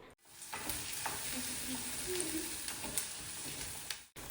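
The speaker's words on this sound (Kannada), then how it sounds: "ಒಂದು ಮೀಡಿಯಮ್ ಸೈಜ್ ಈರುಳ್ಳಿನ ಸಣ್ಣದಾಗಿ ಹೆಚ್ಕೊಂಡ್ಬಿಟ್ಟು ಅದನ್ನು ಕೂಡ ಹಾಕಿ ಹುರಿತಾ ಇದ್ದೀನಿ" Finely chopped medium onion fries gently in ghee, giving a soft, even sizzle at low volume with a few faint clinks of stirring.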